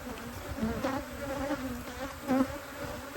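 Honey bees from a feral, cross-combed hive buzz in a dense, steady hum close by, with individual bees whining past now and then.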